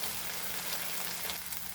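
Goan sausage and prawns fry in a pan with a steady, dense sizzle that holds evenly throughout, close and fairly loud with no voices.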